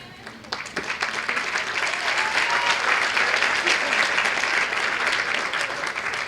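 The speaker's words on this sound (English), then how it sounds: "I know you want to applaud everyone" Audience at a Brown University sociology graduation ceremony applauds continuously, with dense, steady clapping from a crowd filling the room, close and sustained with no break.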